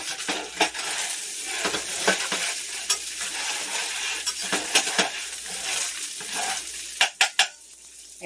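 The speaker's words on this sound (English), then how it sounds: "I'm going to go ahead and just scrape the bottom right quick to dislodge any of the pieces of ground beef" A spatula scrapes the bottom of a pan of sizzling cooked ground beef for sloppy joe sauce, making repeated sharp metallic scrapes and clinks over a steady frying hiss, with a cluster of quick scrapes near the end.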